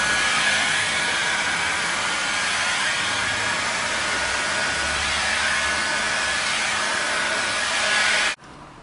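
Heat gun blowing hot air steadily onto vinyl graphic film, a loud continuous broadband whoosh that cuts off abruptly near the end.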